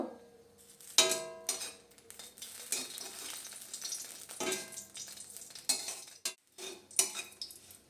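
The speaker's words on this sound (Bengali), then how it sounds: "দিয়ে ভালোভাবে এপিট ওপিট আমি ভেজে নিচ্ছি" Oil sizzles steadily as eggplant fries in a pan while utensils clink and scrape, with several sharp metallic taps over the frying hiss.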